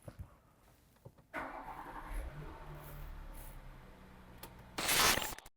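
After a few faint clicks, a Volkswagen Atlas engine cranks and catches, then settles into a steady low idle in park, with a brief burst of noise near the end.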